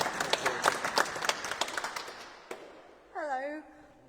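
Scattered applause from a small audience at a heritage lecture, thinning out after about two and a half seconds, followed by a short spoken voice.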